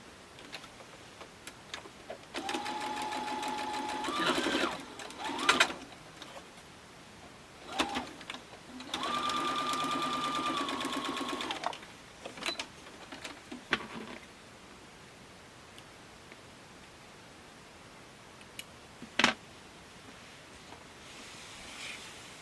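A sewing machine stitches a quilt seam with nested seam allowances on a mini quilt, giving two separate bursts of steady mechanical whirring a few seconds long, close and moderately loud, with quiet handling noises between and no talking.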